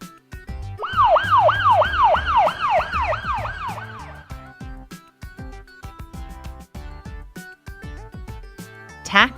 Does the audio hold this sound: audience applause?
no